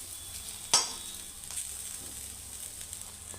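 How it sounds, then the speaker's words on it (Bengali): Bitter gourd sizzling in oil, a soft steady crackle with a sharp clink of a utensil early on and faint stirring scrapes. "আমার ঠিক করলা ভাজা এরকম কড়া করে ভাজলে ভালো লাগে"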